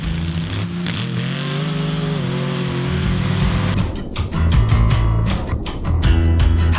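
An off-road buggy engine at full throttle during a Mountain Havoc tie-down tow test, revving hard and steadily, with pitch sweeps and rough bursts as the engine bogs and recovers, loud and close.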